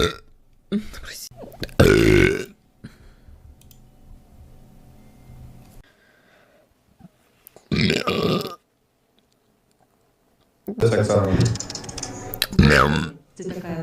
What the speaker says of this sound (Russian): Как проснулась, сразу рыгаю.